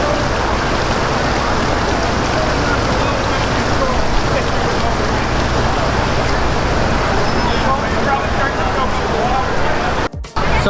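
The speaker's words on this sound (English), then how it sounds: "it's been about a half an hour and it's still raining" Heavy rain pours steadily and loudly at the outdoor Flite Fest 2019 event, a dense hiss of drops hitting surfaces nearby, with faint voices mixed into the downpour.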